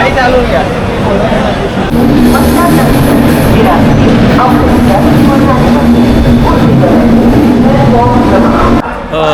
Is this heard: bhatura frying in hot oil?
no